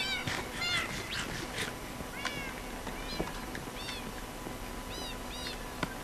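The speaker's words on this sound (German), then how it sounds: "aber das sind immer noch die alten Katzen" Cats meow repeatedly in Minecraft, a scatter of short, fairly quiet mews from several animals over soft game ambience.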